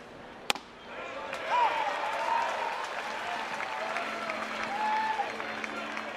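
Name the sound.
applause from baseball crowd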